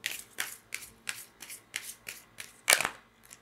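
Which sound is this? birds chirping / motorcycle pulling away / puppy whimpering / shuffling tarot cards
shuffling tarot cards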